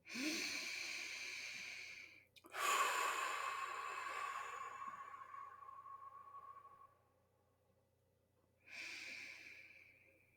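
Deep, slow breaths drawn in and let out during a guided relaxation exercise, close and clearly audible, with two long breathy passes separated by a quiet pause.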